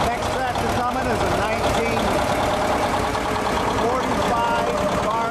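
A 1945 Farmall H tractor engine runs at a steady idle during an antique tractor and plow event, a constant mid-range motor drone filling the scene without pause or break.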